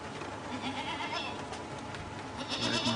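Goat bleating in the dark: a short, thin cry near the middle, then a stronger, quavering bleat toward the end, both fairly close over a constant low hum.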